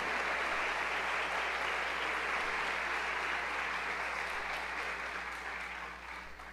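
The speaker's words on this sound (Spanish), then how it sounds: "Denles aplauso al Señor con ganas," A church congregation applauds the Lord during a testimony service, steady, even clapping from many people that fills the room throughout and fades slightly at the end, with a low hum beneath and no voices.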